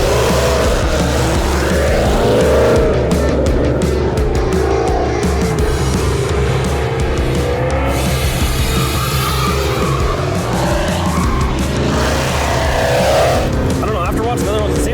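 A race car engine roars loudly and continuously on a track, a constant heavy drone with shifting pitch, and people talk over it throughout.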